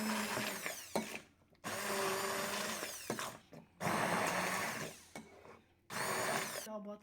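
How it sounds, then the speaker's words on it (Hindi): An electric grinder blends yogurt into a chutney in several loud whirring bursts, each a few seconds long and separated by brief pauses. "हम दही डाल रहे हैं और अब हम इसको ग्राइंड कर लेंगे अच्छी तरह चटनी बनाने के लिए"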